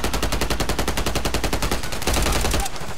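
Rapid, evenly spaced automatic gunfire from a regular gun in the video game Call of Duty MW3 rattles loud and close for nearly three seconds, then stops abruptly.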